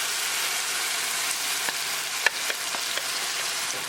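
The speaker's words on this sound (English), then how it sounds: "now we're going to add tomato and green chili puree" Tomato and green chili puree sizzles in an onion tadka for malai paneer, a steady loud frying hiss with a few soft stirring knocks and no talk.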